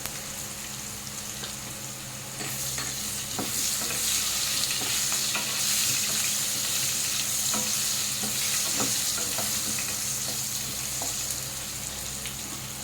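Large potato chunks frying in oil for a sting ray curry, a loud, dense, steady sizzle that swells after a few seconds, with intermittent light stirring clicks throughout.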